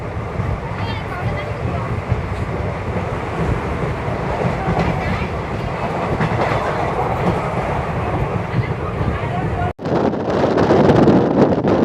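A local train passing near Arakkonam junction, a steady loud rush of rolling wheels and rattling carriages with wind buffeting the microphone, growing rougher and louder after a brief dropout near the end.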